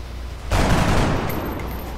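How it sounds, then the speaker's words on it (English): Gunfire bursts out suddenly in the XCOM Long War strategy game, a loud crackling volley that decays over about a second and a half. "We're going to take a couple shots with Jungle Dragon to try and take out this Seeker."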